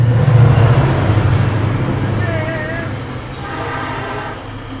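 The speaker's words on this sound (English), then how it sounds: "Hold on, sorry, train again." A Metrolink commuter train passing through Covina, a loud rumbling roll of wagons close by that slowly fades, with a brief horn-like tonal wail midway, alone without talk.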